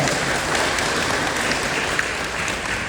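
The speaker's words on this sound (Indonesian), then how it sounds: "Maka tepuk tangan dulu diri Anda semua ya" A congregation at a Buddhist vihara service claps for themselves during a talk, a brief, even burst of crowd applause with steady density throughout.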